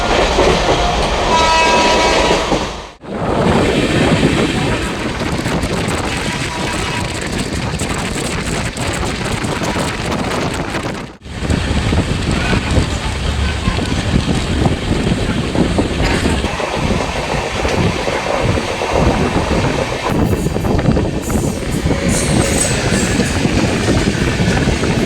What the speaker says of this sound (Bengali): এত স্পিডে আমাদের ট্রেন আজকে দৌড়াচ্ছে।